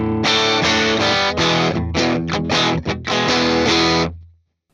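Electric guitar played through a Fender Tone Master Pro modelling a Deluxe Reverb Blonde amp, amp only with no reverb, giving a run of loud, full chords and short stabs that ring out and fade at the end, with no talking.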